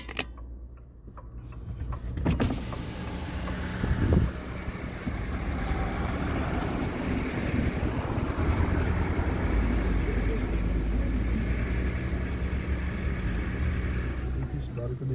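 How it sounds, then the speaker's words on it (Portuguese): A car engine rumbles steadily as the car drives up a hill at a historic site in Igarassu, Brazil, with a brief knock and rustle at the start before the low drone settles in. "Deixa eu ver se eu consigo subir com o carro ali"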